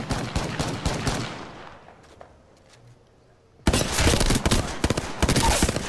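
Rapid weapon fire from Apex Legends: a dense rattle of shots, then a quiet gap of a couple of seconds before a loud, sustained burst of fast gunfire resumes close by.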